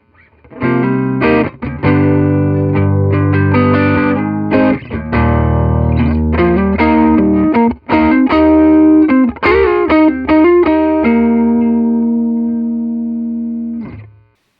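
A distorted electric guitar with deliberately badly set intonation plays sustained chords and notes, loud and up front, ringing out and fading at the end.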